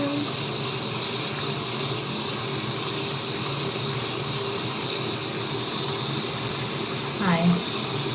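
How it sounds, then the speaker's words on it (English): A tap runs steadily while hands are washed, a continuous close hiss of flowing water throughout with a brief faint clink near the end. "Get my hands nice and washed"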